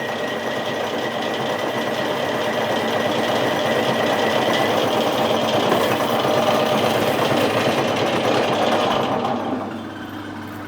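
A CNC lathe turns aluminium on a rough feed with a PCD tool while making a microlight propeller spacer, a loud continuous mechanical buzz with chattering cutting noise that eases near the end.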